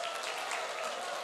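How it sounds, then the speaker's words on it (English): A classroom audience applauds a student, a brief, fairly faint burst of steady clapping. "Give a big applause for her."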